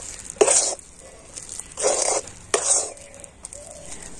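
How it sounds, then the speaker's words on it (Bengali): Mashed potato filling with chat masala being stirred and turned in a pan for mango chops, three scraping strokes in a steady rhythm, close and clear, with no talk. "আবারও কিন্তু মশলাগুলো দিয়ে আলুটাকে খুব ভালো করে নাড়াচাড়া করে নেব"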